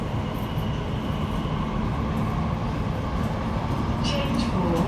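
An Elizabeth line train runs between stations in London, giving a continuous low rumble and rolling rattle throughout, with faint voices mixed in.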